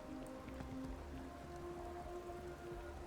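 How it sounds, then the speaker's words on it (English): Rain in the video game Starfield, a steady soft patter of drops on surfaces with faint tonal background hums, continuous and fairly quiet with no voices. "It's raining."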